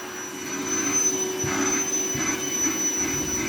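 A household vacuum cleaner running steadily indoors at close range as the house is swept, a continuous motor drone with faint bumps from the floor head moving around.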